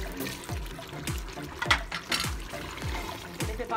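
About 1.5 litres of water poured into a desi chicken gravy cooked with tomatoes, a close liquid splashing and sloshing with regular rhythmic pulses and no voice.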